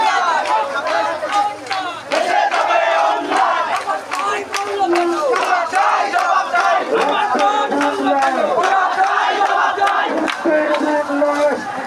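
A protest march crowd of students and members of the public chants slogans loudly in unison, with rhythmic shouted calls and overlapping voices that stay dense and close throughout.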